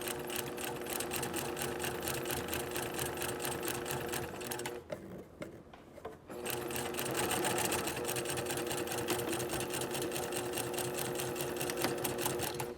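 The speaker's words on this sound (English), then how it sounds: "You're going to continue sewing forward on the line" A sewing machine stitches forward along a quarter-inch guideline on fabric, a steady close whirring hum that runs continuously, dips briefly to a pause mid-way, then resumes at full speed.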